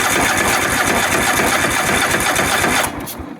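Craftsman DYS 4500 small engine being cranked with a 1000-amp jump pack, a loud, fast, steady chugging that keeps a constant rhythm for about three seconds before dropping off abruptly, recorded close with no talking.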